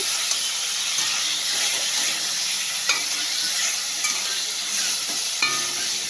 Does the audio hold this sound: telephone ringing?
no